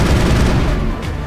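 Dense gunfire in the science-fiction shooter game Mass Effect: a loud, continuous roar of rapid shots and blasts that fills the whole moment, close and overwhelming, with no clear gaps between shots.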